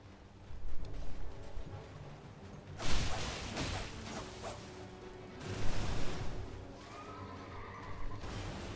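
Horse whinnies ring out over a busy video game soundscape, with swooshes and clattering combat effects, moderately loud and repeated.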